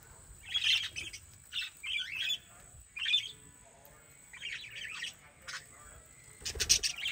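Parakeets in a small aviary at an animal sanctuary chirp and squawk in scattered bursts, several birds calling close by with short pauses between, over a quiet low background hum.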